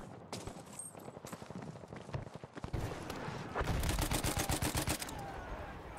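Model 8 rifle gunfire in Battlefield 1 rings out as rapid, loud shots, with bursts quickening into dense volleys amid other battlefield gunfire.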